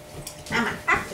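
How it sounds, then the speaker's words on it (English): A dog from a Red Boy Rebel x Hercules breeding is heard during a temperament test. It gives two brief, soft yips or barks, fairly faint against a low background murmur. "You're a toy dog, aren't you?"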